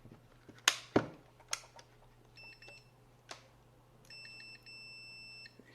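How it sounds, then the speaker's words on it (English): Short electronic beeps from a continuity tester chirp twice in quick patterns while checking a screwdriver bit set for conductivity, among sharp clicks and taps, fairly faint and close by. "Hear the beeping sound."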